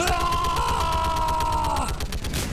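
A Turian turret firing in Mass Effect Legendary Edition, a loud, rapid stream of steady automatic shots with a sustained tonal whine over it that fades after about two seconds.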